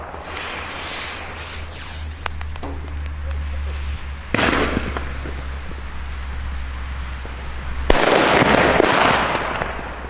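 A Funke Honey Badger firework battery set off outdoors, crackling bursts and sharp pops in separate clusters over a low steady hum, with louder volleys near the middle and end.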